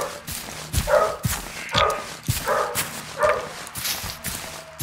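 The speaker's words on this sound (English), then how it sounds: "a bunch of dogs barking in the background" Several dogs bark in the background in Brooklyn, about four spaced bursts of yapping barks at moderate distance, mixed with faint whimpers and scuffling, without speech.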